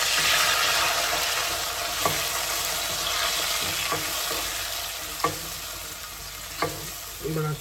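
Ginger, garlic and tomato paste sizzle and fry steadily in a hot pan, a dense continuous crackle with a few sharp clinks of stirring scattered through.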